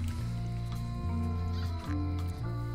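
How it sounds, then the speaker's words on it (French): Cartoon cat in the adventure game Return to Monkey Island meows repeatedly, loud and drawn out, with a caterwauling tone over game music. "Oh, il y a un chat."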